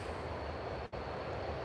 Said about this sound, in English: Okay, here comes another train.